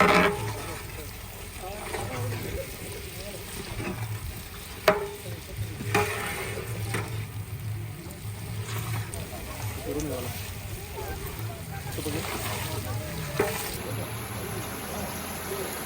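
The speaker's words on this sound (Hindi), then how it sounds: "पाँच से 6 मिनट तक टमाटर हम करेंगे फ्राई इसमें।" Chopped tomatoes and green chillies frying in oil in a pot for degi rice, a steady soft sizzle with occasional stirring clatters while a voice talks over it.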